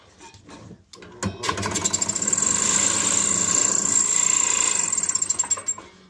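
A Black and Decker drill-powered band saw starts after a brief pause and runs loudly with a steady clattering, rattling whine and a sharp high tone, then begins winding down near the end.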